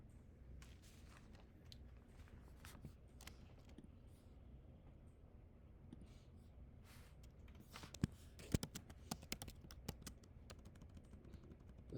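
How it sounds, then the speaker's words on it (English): Scattered keystrokes on a computer keyboard tap along quietly and unevenly, with a few sharper clicks near the end over faint room noise. "I have to start typing it."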